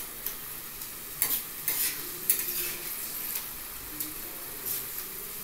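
Mixed vegetables, including cabbage, are stirred and sautéed in a pan for a Bengali panchmishali jhal, with a steady soft sizzle and repeated scraping, clinking strokes of the spoon.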